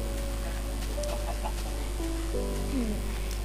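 Chickens cluck in Minecraft 1.8.1 single-player survival, a steady stream of short, close calls over a constant low background hum, with no talk.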